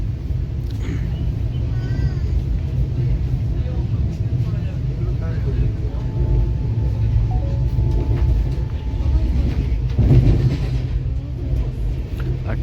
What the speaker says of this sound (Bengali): এই যে হাওড়া পুরী সুপারফাস্ট এক্সপ্রেস।